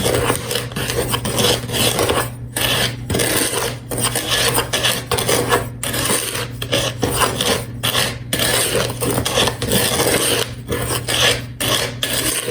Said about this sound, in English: And then I'm just gonna stir until it's combined.